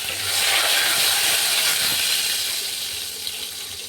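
Bay leaf and curry leaves hit hot oil for urad dal tadka, a loud, close, broad sizzle and steamy hiss that swells at once and then slowly eases, with no talking.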